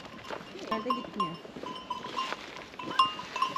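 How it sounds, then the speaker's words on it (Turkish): Sheep and goats in a Turkish village give a few faint bleats at middle distance, mixed with a thin ringing bell and light shuffling. "Bunlar koyun."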